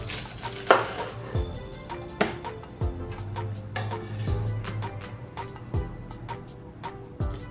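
A knife slices a pineapple into rings on a cutting board, giving a series of crisp thuds at irregular intervals, roughly one every second, close up and loud, with no talking.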